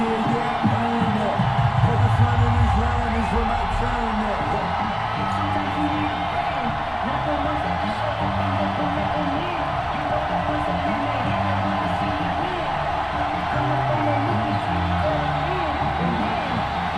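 A sellout stadium crowd roars steadily in the Madden 21 video game, a dense continuous wash of cheering with a game announcer talking over it.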